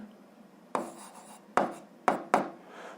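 Pen writing on paper during a school physics problem: quiet scratchy strokes in four short bursts, close and alone.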